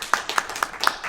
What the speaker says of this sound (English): A round of applause for Susan.